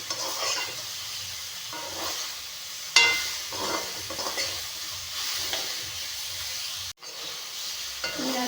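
Salted fish fries in a pan with a steady crackling sizzle, broken by a sharp utensil clank partway through and a brief drop in the hiss near the end.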